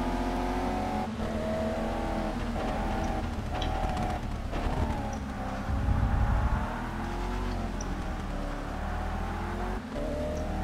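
Race car engine in the ToCA Race Driver 3 video game, driving in rain, holds a steady droning note that rises and falls with shifts and throttle, with brief gaps and a heavier rumbling burst midway, continuous throughout.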